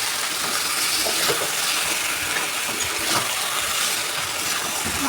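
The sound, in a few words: chicken meat added to hot oil, sizzling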